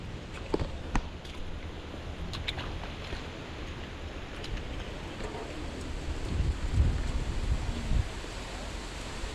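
Southwest monsoon wind blows across an outdoor farm work site, a steady broadband rush with gusty swells and occasional faint rustles and knocks, moderately loud and with no talk.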